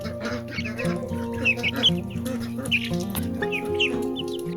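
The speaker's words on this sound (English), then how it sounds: "All the other chickens and ducks are running around." Chickens cluck repeatedly in a farmyard where ducks also roam, the calls close and fairly clear over a steady low background hum.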